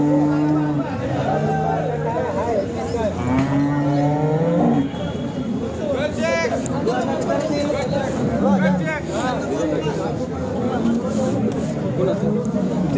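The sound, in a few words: cows at Sangola cattle market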